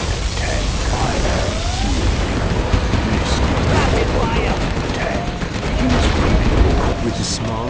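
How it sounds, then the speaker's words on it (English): An Overlord tank fires in Command & Conquer: Generals Zero Hour amid dense, continuous battle noise: loud cannon booms and gunfire layered over a steady roar, with no break from start to finish. "This is the Overlord. Tank fire."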